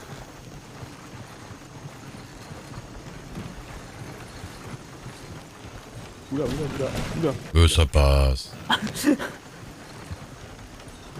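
A horse pulling a cart clip-clops past with a steady stream of hoof strikes under outdoor wind and ambience. People speak briefly in French partway through.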